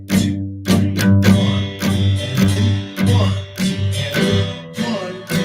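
An acoustic guitar is strummed close and loud in a steady rhythmic pattern, with sharp downstrokes and lighter upstrokes slipped between the beats, ringing chords sustaining across several bars with no talking.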